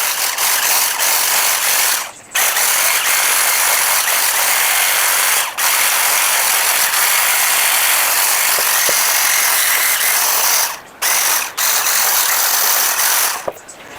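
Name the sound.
electric mixer blending cake batter with flour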